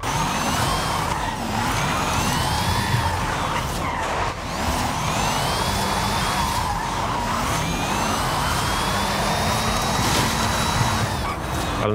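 Engine of a Ford Transit SuperVan 4, a 2000 HP electric van, driving in Forza Horizon: a loud, continuous whine with rising and falling pitch sweeps as it accelerates and shifts, plus tyre noise and rumble throughout.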